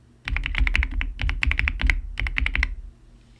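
Typing on a new Dark Project KD87A mechanical keyboard with Gateron Teal switches: close, crisp keystrokes in quick bursts of clicks, with brief pauses between runs and silence at the end.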